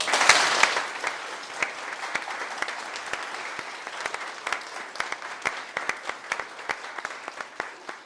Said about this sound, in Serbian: zaslužuje jedan veliki aplauz